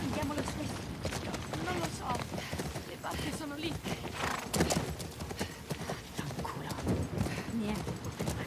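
A horse in the video game The Last of Us Part II clip-clops with busy, close hoofbeats and lets out a whinny, while people talk over the sound throughout.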